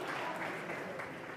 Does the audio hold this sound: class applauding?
yes